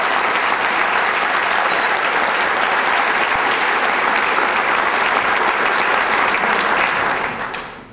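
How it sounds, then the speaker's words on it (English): Audience at a roast benefit event in Cache Valley gives a loud, sustained round of applause, dense steady clapping alone for several seconds before tapering off at the end. "So, round of applause"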